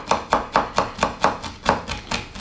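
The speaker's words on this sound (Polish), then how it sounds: "Zanim pokroję lebiotkę" Fresh oregano is chopped with a knife on a board in steady, evenly paced strokes, about four per second, each a crisp close thud with no speech.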